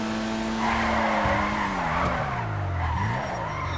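Tires squeal and skid steadily over a revving car engine in the FiveM (GTA V) driving game while one car rams others on the road, a loud continuous screech with shifting pitch from start to finish, no talking.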